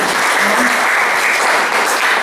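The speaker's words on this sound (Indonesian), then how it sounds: "Tepuk tangan dulu." An audience at a community gathering claps in dense, steady applause, loud and continuous throughout.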